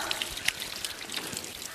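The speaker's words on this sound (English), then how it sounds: "it's a well tile here that the water flows into" Water trickles and drips into a well tile catchment at a spring, a faint, steady patter with a few brighter drops standing out.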